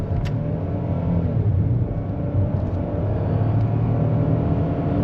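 A 2025 Ford Bronco Sport Big Bend with the 1.5L engine accelerates, heard from inside the cabin as a steady, loud low rumble with road noise that holds level throughout.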